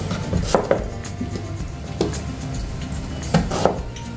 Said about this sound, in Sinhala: අපි වම්බුටු ටික බැදෙනකම් අපේ ලුණු ටික කපා ගමු.